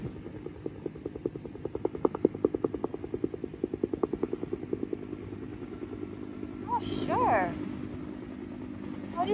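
Helicopter carrying a large tree overhead on a day trip near Noosa, a steady rhythmic rotor thumping at mid distance that fades while people talk over it.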